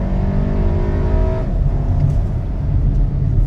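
An Audi Q3 SUV accelerates at full throttle, its engine drone loud and steady, rising in pitch before blending into heavy road and wind roar.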